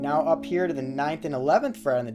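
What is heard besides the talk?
No everyday noises stand out.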